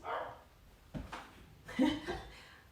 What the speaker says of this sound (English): Our dog Daisy is outside barking her head off